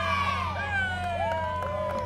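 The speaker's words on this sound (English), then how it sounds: "And they're cheering and pretty excited" Parade crowd cheering for passing Cub Scouts at a Christmas parade in Garner, a steady wash of voices and shouts with whistle-like tones sliding up and down over a low engine hum.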